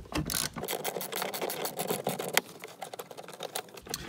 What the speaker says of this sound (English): that bolt is going to be removed using a 15 millimeter socket